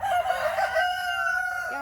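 Chickens in their outdoor run give a loud, close, drawn-out crowing call lasting under two seconds, with no talking.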